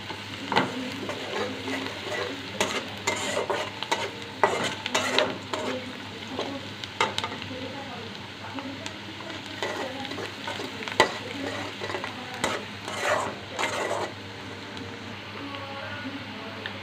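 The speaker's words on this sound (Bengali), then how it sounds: "পেঁয়াজটা একটু নেড়ে চেড়ে নিয়ে" Onions sizzle steadily in a hot pan while a utensil scrapes and stirs them in irregular bursts.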